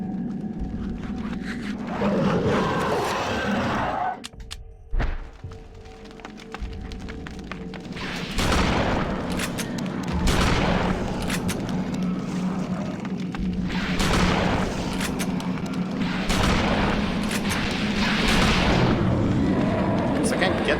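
Gunfire from a shooter in the video game Eternal Darkness, heavy repeated booming shots in irregular bursts over a constant droning game soundtrack, with someone talking throughout.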